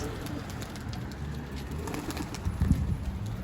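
Soft low cooing of pigeons, several calls close by, rising a little toward the end against a quiet outdoor background.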